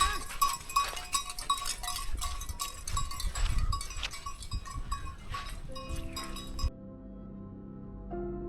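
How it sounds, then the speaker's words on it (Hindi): Metal bells hung on the necks of horses grazing in a Pakistani mountain forest clink and jingle in an irregular, steady patter, fairly close, with some rustling and faint background voices. "साथ में यहाँ घोड़े चरा रहे थे और उनके गले में जो घंटियाँ लगी हुई हैं वो जब छनछना रही थी"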